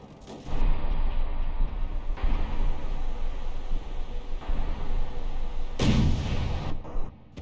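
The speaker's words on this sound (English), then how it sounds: "Oh, the main guns are firing." Warship main guns in a naval battle game fire in heavy, booming salvos, several deep blasts spaced a second or two apart with the loudest near the end, close and rumbling over a steady background roar.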